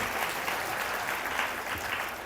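A church congregation at a festival service claps to praise God, producing a continuous, even wash of applause that stays at a steady level throughout.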